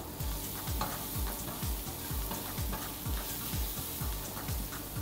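Onions and leek sizzle in a hot pan, a loud, steady frying hiss close by with a regular rhythmic ticking pulse underneath, no voices.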